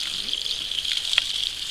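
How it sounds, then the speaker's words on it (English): Water gushing steadily out of a camp plumbing hose pulled loose while draining the lines for winter, a continuous hissy splashing flow close by with no talk. "Pulled my hose out, and I'm going to let the water come out."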